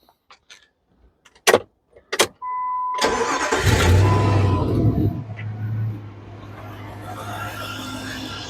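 Jeep Grand Cherokee with newly cleaned battery terminals: a few clicks and thumps, then the starter cranks briefly and the engine catches, revving up and settling into a steady close idle.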